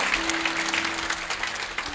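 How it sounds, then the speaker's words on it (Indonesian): A congregation at a church service claps steadily for a couple of seconds, a soft, even wash of applause with a faint sustained tone underneath. "Boleh tepuk tangan untuk Tuhan."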